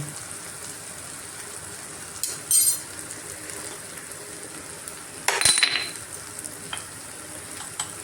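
Tomato and spice masala with coriander-cumin powder, turmeric and red chilli sizzles in a pan for a Kathiyawadi kaju gathia curry, a steady close frying hiss broken by two brief louder bursts of stirring against the pan.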